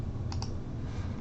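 Two quick light clicks of a computer keyboard key, close and soft, over a steady low room hum.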